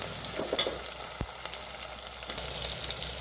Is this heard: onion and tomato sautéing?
yes